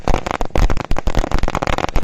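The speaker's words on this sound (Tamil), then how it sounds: "3 லட்சம் பட்டாசு வாலா வெடிக்க போறேன்." A huge 300,000-shot firecracker wala string bursts for Diwali in a dense, rapid chain of loud, close cracks and pops that never pause.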